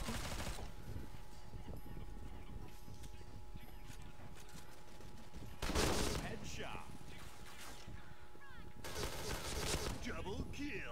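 Shooter-game gunfire sounds in bursts of rapid shots, with loud flurries around the middle and the end and a continuous game bed underneath.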